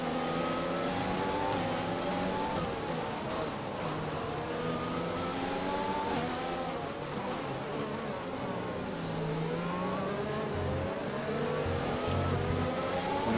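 Formula 1 car engine in the F1 2020 video game at the Spanish round, a high buzzing whine that climbs and drops steadily through gear changes, loud and continuous.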